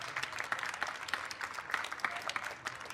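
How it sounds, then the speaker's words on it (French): Audience applause for Max, an anecdote-teller at a Montpellier Toulouse Game Show actor conference, a moderately faint, steady patter of many hands clapping throughout with no talk. "On peut l'applaudir, Max, s'il vous plaît."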